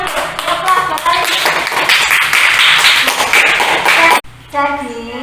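A class performs the Tepuk Alif clapping chant, with quick rhythmic claps under chanting voices that stop abruptly near the end, followed by a short stretch of speech.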